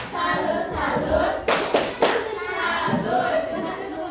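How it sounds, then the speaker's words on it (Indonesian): A classroom of children claps together in a few sharp, patterned bursts of a chanted clapping routine among children's voices and chatter. "kita kasih tepuk salut ya"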